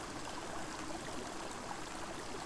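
Steady water flow rushes continuously as a triceratops wades slowly through a river in the Saurian video game, a dense, even wash of sound with no voices.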